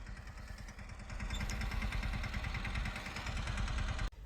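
A small tractor fitted with a disc harrow runs with a steady, close, loud engine chug, its rapid low pulsing continuing throughout and rising slightly after the first second, then a brief dip near the end.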